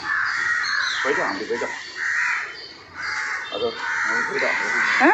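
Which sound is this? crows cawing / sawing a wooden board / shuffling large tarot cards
crows cawing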